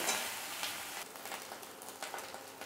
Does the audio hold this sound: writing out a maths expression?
no